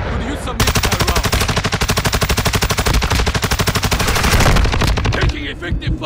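A sustained, loud burst of rapid automatic gunfire in the video game Call of Duty: Modern Warfare II, a steady stream of shots lasting several seconds before cutting off into quieter battlefield noise.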